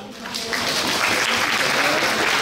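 A crowd at a regional science fair final in Quebec claps steadily for a prize announcement, a dense, continuous burst of applause that builds quickly and holds.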